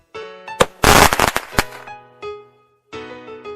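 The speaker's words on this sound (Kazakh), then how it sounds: "Отшашу." Fireworks go off in a rapid cluster of loud bangs and crackles, followed by a ringing tail and another burst after a short gap.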